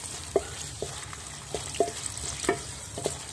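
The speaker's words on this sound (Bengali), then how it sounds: "এখন আমি শুকনো মরিচগুলিকে ভেজে নেব" Dried red chilies fry in a generous amount of oil in a pot, a quiet continuous sizzle broken by soft, regular stirring taps and scrapes, with no talking.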